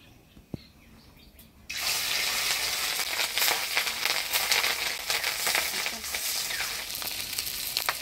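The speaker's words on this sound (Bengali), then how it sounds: "মাছের ডিমগুলো ভেজে নিলাম" Fish roe frying in hot oil for a village-style Bengali dish: after a quiet start, a loud, steady crackling sizzle fills the rest of the clip, close and continuous, with no talk.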